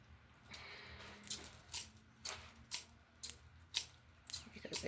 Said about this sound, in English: So now I'm just going to cut the cords or the remnants